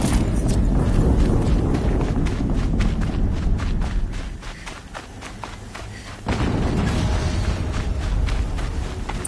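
Repeated explosions in the action game Horizon Zero Dawn, a string of heavy booming thuds and crashes over a rumbling low end, loud throughout with a brief dip before the blasts pick up again.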